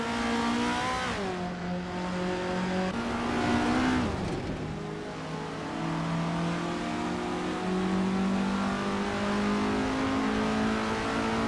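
A 1972 Estonia 18 Formula Junior race car engine in a racing game, revving loudly with rising and falling pitch as it shifts gears, steady and close throughout with no talk.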